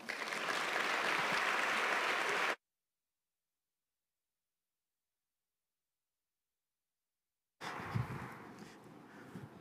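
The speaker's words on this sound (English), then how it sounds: "give my boss a warm round of applause" A conference audience gives a speaker a warm round of applause, a dense, steady clatter for a couple of seconds, then a long silent gap before a second, sparser burst of clapping.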